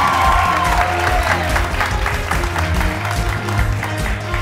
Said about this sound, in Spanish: Aplauso para Ilse, vamos